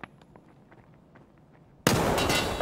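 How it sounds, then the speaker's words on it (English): A grenade blast in the shooter Escape from Tarkov hits hard and loud partway through, following a stretch of faint scattered pops and clicks, and its broad roaring wash sustains to the end. "This is a good sign that they're throwing grenades."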